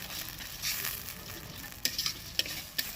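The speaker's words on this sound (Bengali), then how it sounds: "এবার এটাকে হালকা করে নেড়ে নেবো" Cauliflower manchurian frying in a pan while being gently stirred, a soft continuous sizzle broken by several sharp spoon clicks and scrapes near the end, close but fairly quiet, with no voices.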